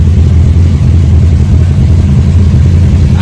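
A carbureted engine fitted with a new carb spacer and modified throttle cable bracket idles steadily while warming up, a loud continuous low rumble close by with no voices.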